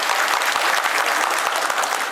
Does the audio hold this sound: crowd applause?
yes